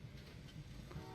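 A train from the Train Valley 2 video game keeps up a quiet, steady rumble with a faint tonal hum, continuous and low in level for the whole moment.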